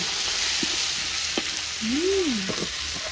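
Spices frying in a pan as the base for a village-style egg dish, a soft steady sizzle with a few light clinks from the pan, no voices.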